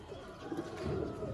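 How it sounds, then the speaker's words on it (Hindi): Pigeons coo softly and continuously at close range, a low, throaty warble with no other voices or sounds over it. "ये कबूतर हैं जी दोस्तों"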